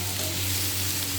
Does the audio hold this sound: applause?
no